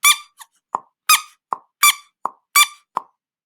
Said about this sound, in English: It must be that squeaky dog toy.